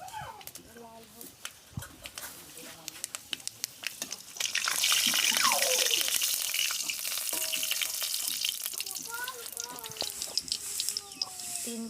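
Garlic cloves drop into hot oil already tempered with whole spices for a bottle gourd saag, and a loud, steady sizzle rises partway through. Quieter clinks and voices come before it.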